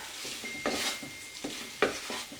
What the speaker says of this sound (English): 1 kg of mince. Mix it nicely with the masala.